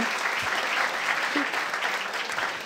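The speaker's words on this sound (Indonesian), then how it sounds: "Tepuk tangan dong" A stand-up comedy audience gives a sustained round of clapping, a continuous even wash of many hands at steady loudness.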